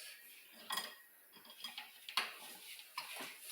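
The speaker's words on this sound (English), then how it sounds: "Okay, mix it a bit more. I think the whisk is better for this." A whisk scrapes and taps against a bowl while Jamaican potato pudding batter is mixed, making irregular light clinks and soft swishes close by.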